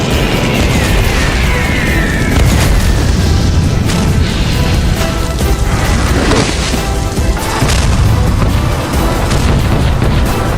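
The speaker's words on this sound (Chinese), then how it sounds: "外面的炮火越来越近了" Artillery barrage pounds a monster-infested forest in an animated series, a continuous roar of loud booms, crashes and impacts with no pause, heavy and close throughout.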